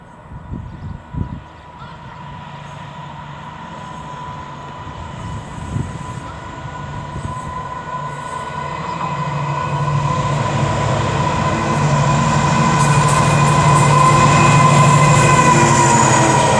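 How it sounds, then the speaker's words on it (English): A Freightliner Class 70 diesel hauling a freight train passes through Stafford station, a low engine rumble that builds steadily into a loud, sustained roar of wheels and wagons. "now approaching is going to be a Freightliner Class 70"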